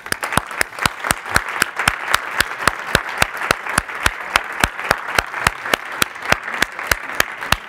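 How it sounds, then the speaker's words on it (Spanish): An audience at a food sovereignty course gives a welcoming round of applause, with loud, sharp claps in a steady rhythm over a softer bed of scattered clapping. "un aplauso de bienvenida para todos"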